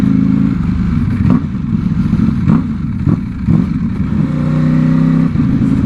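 Ducati V4 motorcycle riding at close range, its engine a loud continuous rumble with repeated rises and falls in revs as it accelerates and shifts, no talk over it.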